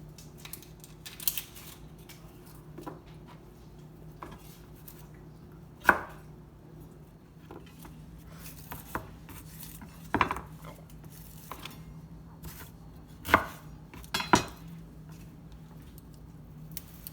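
Shallots being chopped with a knife on a board: a handful of sharp, isolated knife thuds spaced a few seconds apart over a quiet room hum, with faint small handling noises between strikes.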